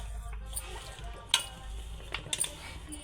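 Ariselu dough of jaggery and rice flour being stirred in Rayalaseema coconut style, a soft continuous mixing and scraping with a few sharper clinks of the spoon against the vessel.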